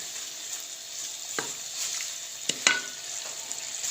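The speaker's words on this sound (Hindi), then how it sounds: "ऐसे अब मसाले को अच्छी तरह भून लेंगे।" Masala spices fry in a pan for a potato and capsicum curry, giving a constant soft sizzle broken by a few sharp scraping stirs and clinks of a spoon against the pan.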